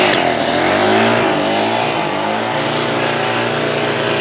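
A small French front-wheel-drive Velo Vap moped engine runs close by, a loud buzzing two-stroke putter that rises briefly in pitch and then settles to a steady idle-like drone.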